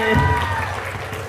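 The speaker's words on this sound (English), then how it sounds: "Give a big applause." An audience at a talk show in Mu'allimaat claps to welcome a guest from Australia, a brief burst of applause that rises quickly and thins out, partly masked by a louder voiced sound and room hum.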